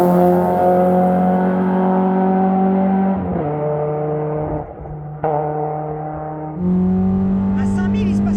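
A Peugeot 106's engine revs hard toward 5000 rpm, a loud sustained tonal drone rising in pitch, briefly dipping between gear changes before climbing again, heard from inside the car.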